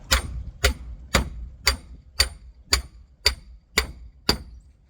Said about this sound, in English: And at this point, we should be hammering.